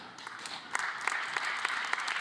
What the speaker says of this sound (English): One big round of applause for all the athletes